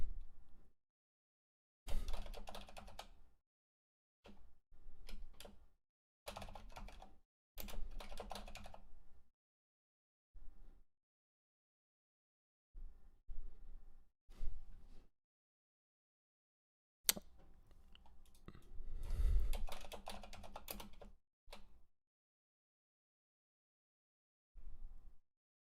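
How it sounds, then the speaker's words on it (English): Computer keyboard clicking in several separate bursts of typing, fairly close and crisp, with short silent pauses between runs of keystrokes and a longer, busier flurry near the end, no talking. "listen to me click my keyboard and make new events"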